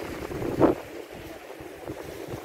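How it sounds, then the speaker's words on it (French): Outdoor coastal wind in Finistère, Brittany, buffeting the microphone, a low rumbling rush with one brief louder gust near the start, and no voices. "j'espère que vous m'entendez bien parce qu'il y a un peu de vent."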